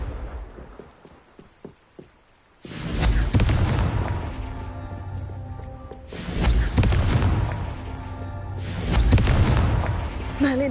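Three loud, booming explosions from a Confringo blasting spell in a Harry Potter–style video game, each a sudden deep blast with a long rumbling tail, spaced a few seconds apart.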